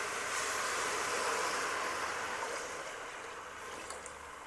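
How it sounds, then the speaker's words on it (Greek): Syrup is poured into semolina toasted in olive oil in a hot pot, giving a loud, steady sizzling hiss that slowly fades. "αφού τον καβουρδίσουμε θα ρίξουμε μέσα το σιρόπι"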